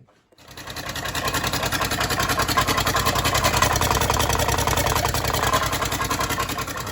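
A Mercedes OM606 turbo diesel in an E300 cranks without starting, with no exhaust fitted and no diesel reaching the injectors. The starter churns in a steady, rapid rhythmic pulse, loud and close, for several seconds.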